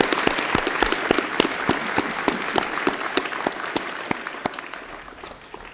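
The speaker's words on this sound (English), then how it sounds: "Round of applause for Alex, please." Applause at a university graduation ceremony, many individual sharp claps from a large audience forming a steady patter that gradually fades toward the end.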